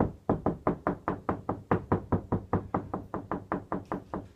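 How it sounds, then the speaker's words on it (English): Knuckles rap on a wall while searching for a stud before mounting a coat rack, about seventeen close, evenly paced knocks over four seconds, fairly loud with no talk. "So one method to try and find them is to knock."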